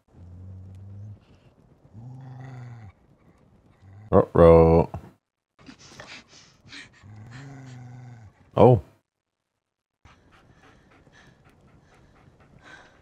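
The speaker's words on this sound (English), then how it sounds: "That's your man's dog." A dog in the Fallout series pants with rhythmic breathy bursts and gives a few short rough growls, alongside a loud sharp snarl or bark, with people talking and reacting over it.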